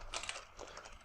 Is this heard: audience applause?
no